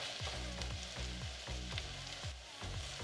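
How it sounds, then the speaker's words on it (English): Diced onions frying in about a tablespoon of vegetable oil in a preheated pan, a steady close sizzle with a low rhythmic pulsing underneath and no talking. "into this preheating pan, add vegetable oil, about a tablespoon, diced onions"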